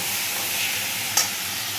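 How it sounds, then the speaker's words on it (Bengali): Spice paste stir-fried in a pan for a jackfruit curry gives a steady close sizzle and hiss, with one brief sharp scrape of a spoon partway through. "এবার এটাকে একটু ভালো করে কষাবো"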